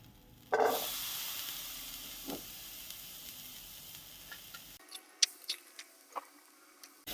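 Boiled chickpeas being stirred in a hot pan give a soft sizzle and hiss with scattered light scraping clicks, close and fairly quiet.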